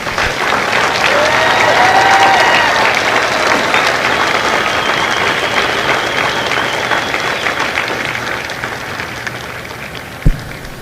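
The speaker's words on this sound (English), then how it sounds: "please join me in a round of applause for the company staff of Company H" A large crowd at a Marine Corps recruit graduation ceremony in San Diego applauds Company H staff, a broad, steady wash of clapping that swells early and holds for about eleven seconds, ending with one sharp thump.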